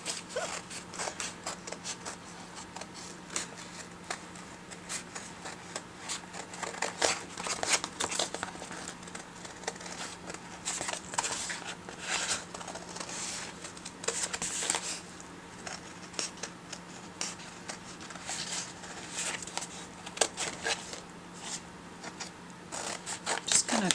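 Scissors trim the edges of paper in repeated short snips, with paper rustling and crinkling between cuts over a faint steady hum.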